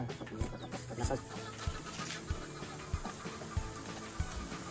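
Native Texas-breed chickens on a farm cluck and squawk in a busy, irregular chorus with repeated short sharp calls at fairly close range, over steady outdoor background noise.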